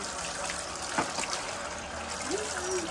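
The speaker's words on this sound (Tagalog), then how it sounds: "Naku, tubig yan. Ang lakas ng tubig." Water running steadily from a source, a continuous strong gushing hiss with a brief louder splash, while people talk faintly in the background.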